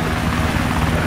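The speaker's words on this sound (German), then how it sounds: "Ich mach mal die Engine. Warte mal. Oh ja, du geiler Heli, komm." A helicopter in the DayZ video game runs with a dense, steady rotor and engine roar, loud and continuous with no pauses.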